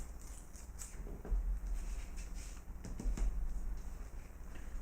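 Paper tears in short, crisp rips against a straight edge, several quick tearing bursts close and fairly quiet, separated by brief pauses with soft handling rustle.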